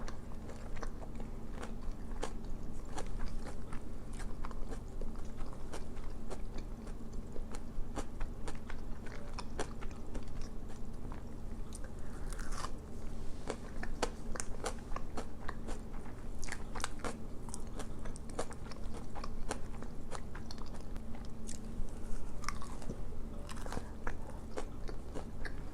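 Onion rings are bitten and chewed close to the mic, with crisp crunches and crackles repeating over a steady low background hum, and no one speaks.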